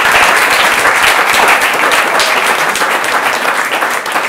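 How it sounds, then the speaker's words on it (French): A hall audience gives loud, sustained applause for Claudine André, founder of an animal refuge. The crowd's clapping is close and full and stays strong throughout, easing only slightly at the very end. "elle mérite un gros applaudissement"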